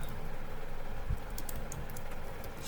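Keys on a computer keyboard clatter in quick irregular bursts of light taps, close and fairly quiet, with one firmer thump near the middle.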